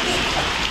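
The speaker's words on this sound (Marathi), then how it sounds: "तर अशाच प्रकारे हा होता कोकणातला पहिला पाऊस." First monsoon rain falls over a Konkan village, a dense, even hiss of downpour filling the whole brief moment with no gaps.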